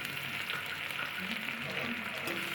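Onion frying in oil with dried red chillies and bay leaves for a vegetarian taro-leaf dish, a steady close sizzle with faint crackles and a few light stirring sounds, no speech.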